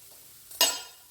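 Paddu batter hits hot oil in a pan with a single short sizzling hiss that flares up and quickly fades, close and alone in an otherwise quiet kitchen.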